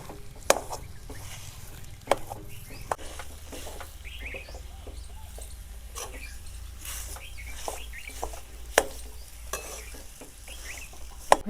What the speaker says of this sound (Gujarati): એ રીતના હલાવતો જવાનો છે ખજૂરને, જેથી ઘીમાં હરખું શેકાઈ જાય.